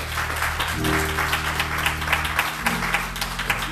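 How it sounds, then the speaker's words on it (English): A church congregation claps in praise during a service, a busy, rhythmic patter of many hands over held organ or keyboard chords, moderately loud and continuous. "give the Lord a hand clap of praise."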